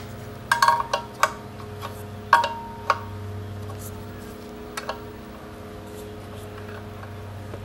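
A long bolt being tightened on the gas tank of a Maytag 72 engine, a few sharp metallic ticks and clinks early on, then fainter clicks over a steady low hum.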